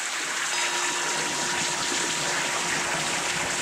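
Broad, steady rush of plentiful water flowing toward a hydropower turbine outdoors, loud and continuous with a constant hiss and no pauses.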